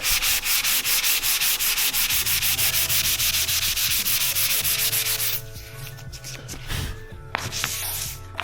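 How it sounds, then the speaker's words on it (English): Car body paint being sanded by hand with 500 grit sandpaper over guide coat: steady, loud rhythmic scraping strokes that carry on for about five seconds, then drop to quieter, lighter rubbing. "as you start to sand it down"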